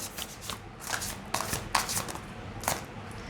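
Tarot cards are shuffled in repeated soft riffling bursts, close and fairly quiet, with no voices.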